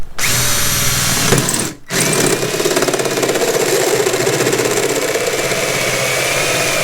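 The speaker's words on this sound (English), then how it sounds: "Nothing like a sharp hole saw. That is a fully disgusting noise." A sharp hole saw drills into a car door with a loud, harsh whine that runs continuously, pausing only briefly near the start before grinding on steadily.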